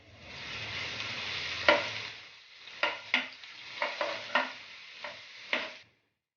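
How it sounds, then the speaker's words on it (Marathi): Ginger-garlic paste and hot chili stirred in hot oil in a pan, a steady soft sizzle broken by several sharp spoon scrapes and clinks, with no talking. "त्याच्यामध्ये 1 चमचा अद्रक आणि लसूणची पेस्ट टाकलेली आहे गरम तेलामध्ये"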